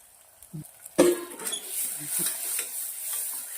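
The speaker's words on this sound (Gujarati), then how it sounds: "હવે સરસ મજાની ડુંગળી અને લસણ શેકી લેવાના છે ગરમ મસાલા જોડે।" Onion and garlic roasting in a pan with garam masala while being stirred, soft scraping and clinks over a faint sizzle, close and quiet, with one sharper knock early on.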